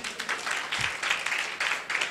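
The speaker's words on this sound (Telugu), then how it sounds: "చప్పట్లు కొట్టండి" An audience claps in rhythmic bursts through a church sermon setting, the applause close and sustained, with no talking over it.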